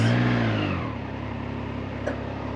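A Triumph Trident 660 motorcycle engine cranks and catches, a loud steady engine drone settling into a sustained idle with a brief sharp blip near the end, heard alone.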